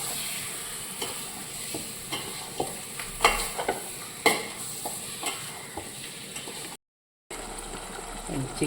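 Chicken and curry leaves sizzle in a pan for a chicken curry, a steady hiss with faint scrapes and ticks of stirring, cut by one brief gap of silence.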